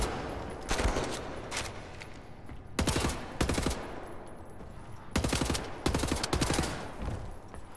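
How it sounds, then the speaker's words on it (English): Automatic gunfire in Wolfenstein: The New Order, loud bursts of rapid shots in several clusters separated by brief pauses, close and dominant over low background noise. "Shooting folks who can't defend themselves."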